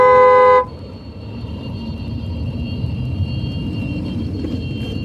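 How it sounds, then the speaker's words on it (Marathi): Bus on the Ajanta ghat road blasting a loud, sustained horn for about half a second, followed by steady engine and road rumble with a faint tonal whine. "मागून पण बस हॉर्न मारत आहे"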